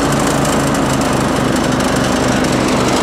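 A Sears Craftsman / Troy Bilt 30-inch rear-engine riding mower running with the blade engaged while mowing in reverse, a loud, steady, close small-engine buzz with a rapid regular pulse and no pauses.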